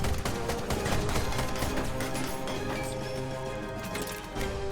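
Weapons firing in the steampunk mech video game Ironcast, a dense, loud barrage of rapid cannon and gunfire blasts with crashing impacts layered over game music, continuous throughout.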